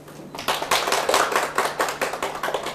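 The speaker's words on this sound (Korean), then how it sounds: "박수 쳐주세요" Lecture hall audience breaks into clapping after a short pause, a close, lively burst of many hands with a rhythmic, pulsing feel that keeps going to the end.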